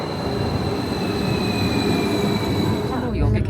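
Flåm mountain railway train rolling on its rails, a steady close rumble with faint wheel squeal and high tonal whine throughout, ending in a brief clatter.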